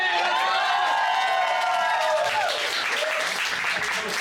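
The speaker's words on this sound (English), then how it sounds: "So maybe all give a round of applause to the oldest person in this room." Dinner guests at a Lunar New Year reunion meal in Taipei break into a loud, steady round of applause, dense clapping close by that holds for several seconds and thins slightly near the end.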